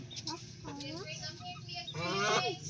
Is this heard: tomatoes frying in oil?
no